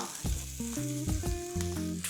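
Yellow chives stir-fried in a red-hot wok slicked with oil give a steady sizzle with a few brief tossing knocks, heard under louder tonal background music.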